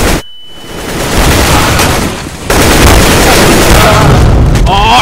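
Grenade blasts in a tactical first-person shooter match, loud booming bursts with a brief drop then a second heavy roar of explosion and rumbling debris, close and intense.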